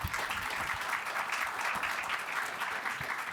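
Steady, dense audience applause at a consumer finance forum fills the room evenly and continuously, with many hands clapping at close to moderate distance and no talk over it.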